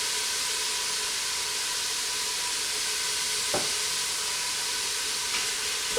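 Roasting vegetables sizzle steadily in a pot, a loud, even hiss up close, with a spoon stirring and knocking twice against the metal.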